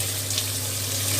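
Close, steady rush of tap water pouring into a sink during dishwashing, continuous and fairly loud over a constant low hum.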